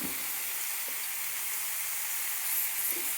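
Chopped onion sautés in about two small spoons of oil in a pan, a steady, even sizzle and hiss that carries on close by with no pauses and no voices.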